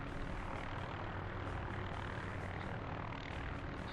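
A rescue helicopter in the video game Air Ranger: Rescue Helicopter drones steadily in flight, a continuous broadband rotor and engine wash that stays even and unbroken throughout.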